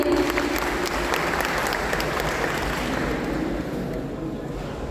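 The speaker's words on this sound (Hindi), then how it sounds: "एक बार तालियां बजाइए।" Audience at a Hindi poetry event breaking into applause, a thick, continuous roar of many clapping hands that slowly eases in level toward the end.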